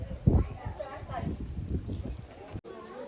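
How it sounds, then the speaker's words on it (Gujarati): Hooves of a local desi horse clip-clopping near the beach and palace at Mandvi, Kutch, a quick uneven patter close by under continuous talking. "આ છે અમારું દેશી ઘોડિયું."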